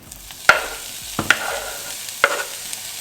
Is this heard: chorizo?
yes